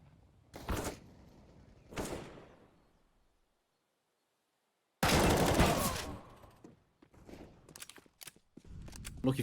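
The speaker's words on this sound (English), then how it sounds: "Lucky for Jax on the receiving end of a few P250 bullets." P250 pistol shots from a Counter-Strike match on the Inferno map ring out in short bursts of several sharp cracks, separated by a silent gap, with a loud dense volley near the middle and scattered fainter shots and footsteps trailing after.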